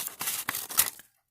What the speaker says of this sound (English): Scissors here. I'll cut this